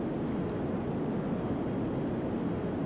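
A propeller aircraft in the SimplePlanes flight game drones with a steady, dense engine roar that holds at an even level throughout, with no voices.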